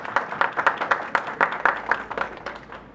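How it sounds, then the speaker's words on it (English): Audience applause welcoming a presenter at a fashion technology talk, a short run of fairly close, uneven claps from a small crowd lasting a few seconds. "Please welcome her with a round of applause."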